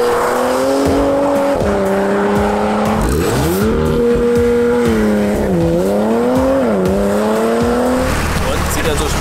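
A 440 PS Porsche Macan Turbo SUV drives hard, its engine loud and close as it revs up, shifts and pulls again, with the pitch rising and dipping across several gear changes.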